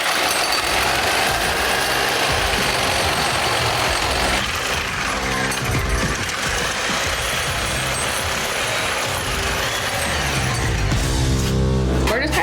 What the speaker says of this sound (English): the Sawzall is my #1 tool for this